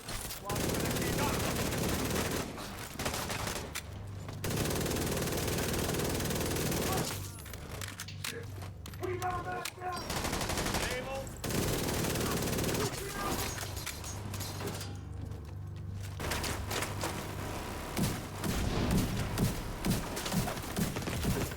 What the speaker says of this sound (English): Alright, give the submachine gun a try.